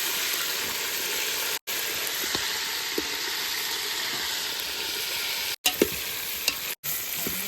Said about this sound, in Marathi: वांगे तळण्यासाठी याच्यामध्ये टाकलेले आहेत